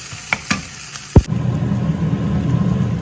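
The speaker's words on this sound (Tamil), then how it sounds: "இப்போ இந்த வெங்காயம் இந்த பூண்டையும் போடுவோம் போட்டுட்டு அப்படியே மெதுவாக கிளறுவோம்" Onion and garlic are dropped into a hot pan and stirred. A few clicks and a thud are followed by a sudden, steady, close sizzle that keeps going under light stirring, with no speech.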